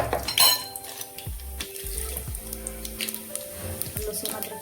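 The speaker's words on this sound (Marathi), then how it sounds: "खडे मसाले यामध्ये मी जिरे टाकून घेते," Cumin and other whole spices dropped into hot oil for spinach khichdi give a soft sizzle with clinks of metal utensils on a pan, while a tonal hum and speech-like sounds run underneath.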